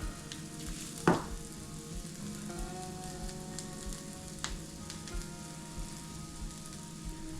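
Morel mushrooms fry in a salted pan with a soft, steady sizzle and crackle, interrupted once early by a brief sharp clatter and a few light taps.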